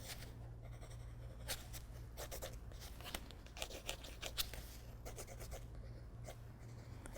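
A pen scratches quick sketching strokes on paper guided by a triangle, a close, faint series of dry rapid scrapes over a low steady hum.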